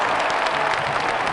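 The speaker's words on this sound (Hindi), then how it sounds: "इनका दिल खोल के तालियों से स्वागत कीजिए," A comedy show audience claps in a dense, steady burst of applause welcoming a guest, loud and close throughout the short moment.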